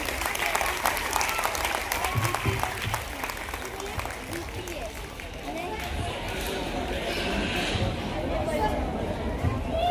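Audience at a student honour ceremony applauding, a dense, sustained clapping from a crowd that continues steadily throughout.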